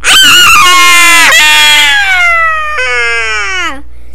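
A fairy-tale witch shut in an oven lets out a long, loud, high-pitched scream in several sustained wailing bursts that slide downward and grow quieter toward the end.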